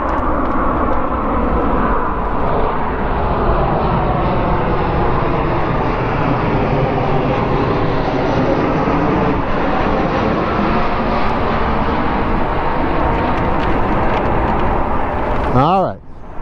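A jet airplane roars steadily and loudly overhead, a continuous broad engine rumble that holds throughout and fades away abruptly near the end.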